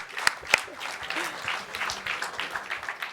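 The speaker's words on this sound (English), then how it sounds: "Please give them a big applause." Audience applause at a digital technology summit, a steady patter of clapping with a couple of sharper claps near the start, moderately loud and continuous across the short stretch.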